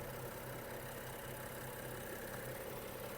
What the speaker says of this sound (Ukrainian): мотор не митий, працює тихо, рівно